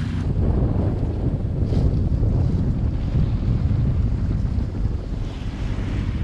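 Fast ferries run at high speed between Ibiza and Formentera, giving a steady, loud low rumble of engines and rushing waves, mixed with strong wind buffeting the microphone throughout, with no voices.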